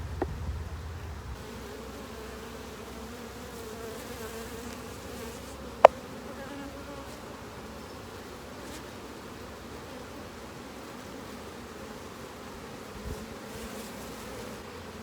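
A hive crowded with honeybees gives off a steady, low buzzing hum for the whole stretch. One sharp click stands out partway through.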